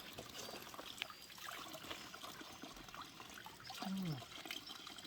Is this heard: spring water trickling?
yes